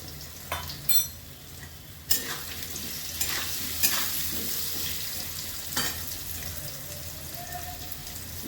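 Pumpkin frying in a pan with a nigella seed tempering after fish has been fried, a steady sizzle running throughout with occasional sharper crackles and stirring scrapes up close.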